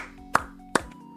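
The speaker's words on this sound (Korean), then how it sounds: "이거는 진짜 다시 한번 박수." Three sharp, isolated hand claps ring out at an even pace, each crisp and loud against a quiet background.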